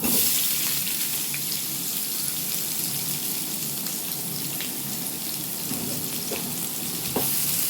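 Onion frying in oil with caramelized sugar for a Bengali clam curry, producing a dense, steady close sizzle with a bright hiss and faint stirring taps, no voices present.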